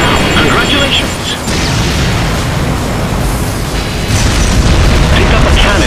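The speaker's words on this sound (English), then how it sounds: "Hold the Use Power-Up button for a short time to fire all your missiles now" Loud, dense booming blasts and crackling bursts pile up continuously, a chaotic barrage of missiles firing and exploding in the racing game SkyDrift, with speech mixed in.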